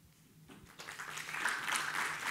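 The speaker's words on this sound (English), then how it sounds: "Give them a good round of applause" Applause for an engineering team at a tech conference swells in from near quiet, building to a steady, moderately faint patter of clapping.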